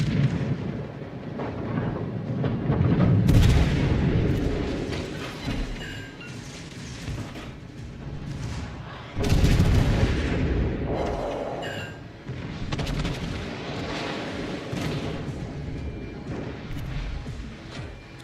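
Naval guns fire in World of Warships Legends, with deep rumbling booms at intervals, the loudest near the start and the middle, over a continuous low roar of game background sound.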